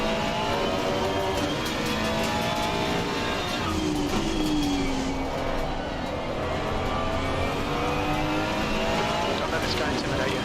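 Lamborghini race car engine in a racing video game, a steady loud drone with rising and falling pitch tones throughout, another car close behind, under sparse talk.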